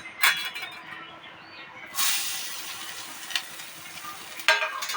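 Grated coconut with bay leaves stirred and fried in a pan, a close steady sizzle with scraping strokes of a spatula and a few louder bursts of hiss.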